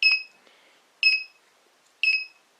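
Three sharp electronic beeps from a security alarm's entry delay, spaced about a second apart, loud and close, each a short two-tone chirp with quiet between.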